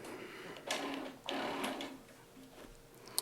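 A Pro Stitcher computerized quilting machine runs a few stitches to bring up the bobbin thread, making brief mechanical whirring and ticking bursts at close range, quiet overall.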